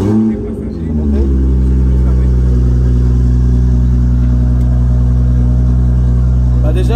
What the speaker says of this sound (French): quand le cold start il sonne comme une Lamborghini Gallardo, il y a un problème